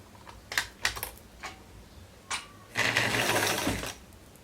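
A sewing machine stitches a fabric sleeve for a raglan-style garment, opening with a few short clicking bursts and then running in a steady, close whirring stretch of about a second.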